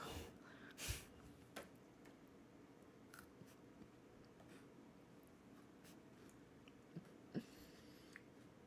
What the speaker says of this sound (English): he's doing the sniff sniff test.